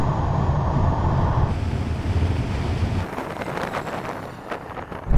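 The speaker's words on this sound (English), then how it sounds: "We are going into a serious headwind." Strong headwind buffeting the microphone during a drag race between a Honda Civic Type R and a Toyota GR Yaris, a loud continuous roaring rush that shifts to gustier, broken blasts halfway through.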